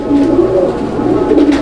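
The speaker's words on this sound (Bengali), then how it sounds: "দেখেন আপনারা এখানে নটটা বামে ডানে মাদি কবুতর" Pigeons, including female fancy pigeons offered for sale at a pigeon market, give continuous low, throaty cooing close by, a steady rolling murmur with several birds overlapping and no voices.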